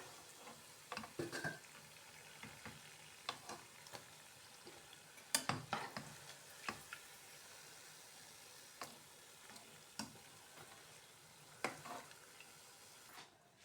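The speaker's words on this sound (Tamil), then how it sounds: "இப்படி எல்லாத்தையும் பொறிச்செடுப்பேன்" Jaffna palmyra fruit paniyaram deep-frying in hot oil, a soft steady sizzle with scattered clicks and scrapes from stirring and lifting, close and fairly quiet, with no voices.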